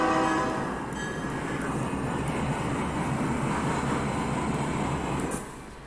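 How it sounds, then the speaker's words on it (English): Train getting under way in a railroad simulator game, a steady loud rumbling roll with rail noise and a faint high whine, holding level before easing off at the end. "now let's go and get this train on the move"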